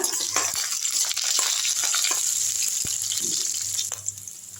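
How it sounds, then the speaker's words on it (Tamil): Garlic cloves, fennel seeds and green chillies sauté in about fifty grams of oil, giving a steady close sizzle with occasional clinks and scrapes of a utensil, no voices. "ஒரு ஐம்பது கிராம் அளவு ஆயில் ஊற்றிப்போம் கொஞ்சமாக சோம்பு போட்டுக்கலாம் பூண்டு பல் போட்டுப்போம் பச்சை மிளகா நல்லா வதக்கி விட்டுருங்க"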